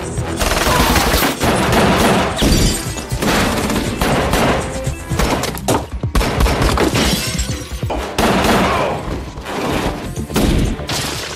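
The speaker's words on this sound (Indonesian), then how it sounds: "lalu terjadilah baku tembak" A film shootout between a gang and a police general's side: dense, loud bursts of gunfire with automatic volleys, sharp cracks and shattering impacts packed together almost continuously.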